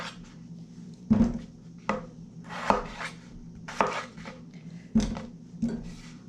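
A knife chops through an unpeeled potato on a board, cutting it into quarters with about seven sharp, evenly spaced thunks, each one close and distinct against a quiet background, with no talk.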